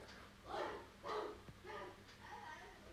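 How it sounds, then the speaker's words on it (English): Puppy barking nearby, a few short sharp barks and yips spaced across the moment at moderate loudness, with faint background noise and no clear talk over them. "And someone just barked."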